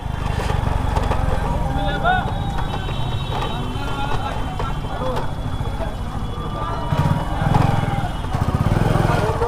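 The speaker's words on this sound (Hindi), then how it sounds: "पार्किंग में बाइक लगा देते हैं," A motorbike engine runs steadily close by while being parked at a busy railway station in Jaynagar, with a continuous low rumble that swells briefly near the end amid background chatter and street noise.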